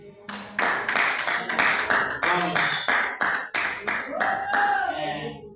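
A church congregation at a prayer service claps together in a steady, fairly fast rhythm for several seconds, loud and close, with a voice briefly audible beneath.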